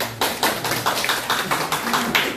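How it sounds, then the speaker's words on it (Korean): Church congregation clapping in a quick, steady rhythm, a dense run of close claps with slight accents throughout, with no talk over it. "나오실 때 박수"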